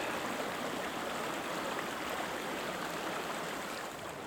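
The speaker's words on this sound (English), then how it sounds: "Little waterfall down here." Chester Creek at Bonner Park, Pennsylvania rushes over a small concrete-edged waterfall, a constant, even roar of flowing water filling the scene with no voices.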